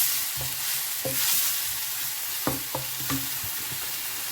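Tomatoes frying in a pan for a Philippine-style paella, a soft continuous sizzle with several light scraping stirs and taps of a utensil against the pan, close and fairly quiet.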